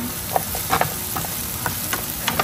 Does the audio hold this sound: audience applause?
no